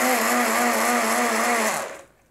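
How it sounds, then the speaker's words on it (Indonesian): Kitchen blender grinding Mentos candies, a loud steady motor whir that spins down and stops near the end, close and with no voices. "gua blender lama nih."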